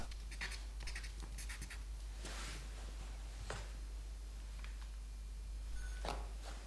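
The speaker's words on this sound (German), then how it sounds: "Mit dem Finger verwische ich jetzt die Farbe und schwäche so die harten Ränder des Stiftes ganz leicht ab" A finger rubs and smudges red chalk on paper in soft, close scratching strokes, with a few brighter swipes standing out over a quiet steady background.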